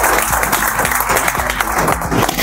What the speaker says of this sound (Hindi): एक बार जोरदार तालियां हो जाएं सभी के लिए।